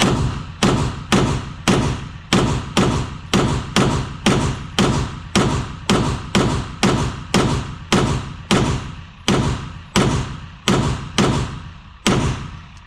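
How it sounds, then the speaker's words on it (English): A Beretta 92XI Squalo pistol fires 22 rounds in quick succession, a steady, evenly spaced string of loud, sharp reports with no talk. "22 rounds, left target, as quickly as not as quickly as I can, but I'm gonna go a little bit fast paced"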